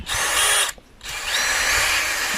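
A power drill drives bolts into the large wooden legs of a DIY round picnic table, two sustained loud whirring bursts separated by a brief pause, heard close up without talk.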